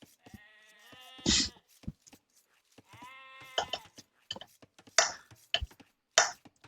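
Sheep in a real-time strategy game give two long harmonic bleats, at the start and again around three seconds, among sharp clicks and bursts of game effects, with no talk.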